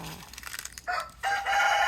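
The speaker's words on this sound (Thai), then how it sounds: "พวกนี้ก็จะเป็นไก่งวงนะคะ" Turkeys calling on a farm, with a burst of rapid gobbling notes followed by two sustained, wavering cries, fairly close and loud.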